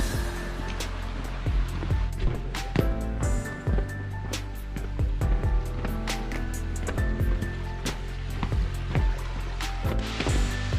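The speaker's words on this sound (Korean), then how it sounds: "여기 절구 폭포에 다 왔습니다." Water pouring and splashing at Jeolgu waterfall in Juwangsan, a continuous close rush with irregular sharp splashes and bursts throughout.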